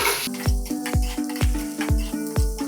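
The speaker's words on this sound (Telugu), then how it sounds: "ఆయిల్ వేడెక్కాక పచ్చిమిర్చి, ఆనియన్స్, సాల్ట్ వేసుకుందాం" Green chillies, onions and salt frying in hot oil to start an egg curry, with a steady sizzle broken by about five sharp spatula knocks against the pan at a regular beat.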